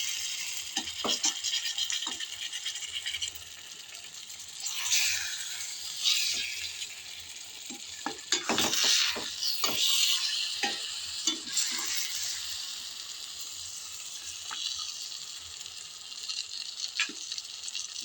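A spatula stirs a tomato and egg fry in a pan, with repeated scraping strokes over a steady close sizzle that runs throughout, some strokes sharper and louder than others.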